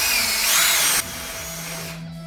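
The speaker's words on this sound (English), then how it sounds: "When you drill through with your spade bit, when the point comes through the back side, stop." A power drill with a spade bit whines loudly as it bores through a wood board, then drops abruptly to a lower, steadier drone as the bit breaks through.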